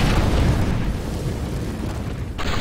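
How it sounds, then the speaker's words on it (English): An incendiary grenade in CS:GO fills the space with a steady, dense roaring rumble of burning fire, fairly loud throughout, with a brighter hiss flaring near the end. "Incendiary out."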